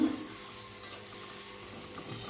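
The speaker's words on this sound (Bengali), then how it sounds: "কাপ পেঁয়াজ কুচি, দিয়ে এখন নেড়ে চেড়ে নিব কিছুক্ষণ" Chopped onions fry in a pan with garam masala, cardamom, cinnamon, cloves and bay leaves for Kolkata-style mutton kosha, a faint, even background sizzle with an occasional light stir.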